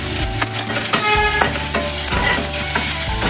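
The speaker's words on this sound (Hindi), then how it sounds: "सबसे पहले हम लहसुन को, साथ में हम अदरक भी डाल लेंगे, इसका कच्चापन निकल जाए, इतना ही भूनेंगे हम।" Garlic and ginger sautéing in oil in a pan, a loud steady sizzle with scraping stir strokes and clinks of a spoon, close up with no voices.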